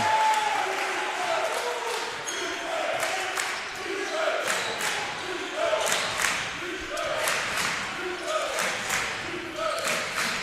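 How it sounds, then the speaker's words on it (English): Spectators at a men's college basketball game, SSU against Rio Grande, roar and cheer in a gym, a loud sustained crowd din with claps and sharp shouts. "And now the crowd getting into it"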